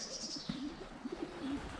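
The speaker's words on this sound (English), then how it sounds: "I've just put out some birdseed and the pigeons are trying to get in on the action." Pigeons coo softly and repeatedly at a birdseed feeder in a spring garden, low mellow calls at moderate distance over a steady outdoor background.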